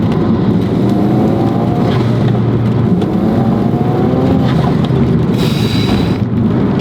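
Tuned 415 hp Ford Focus RS engine accelerating on the road, a loud, continuous low roar and rumble heard close from inside the car, with brief higher bursts near the end and no talking.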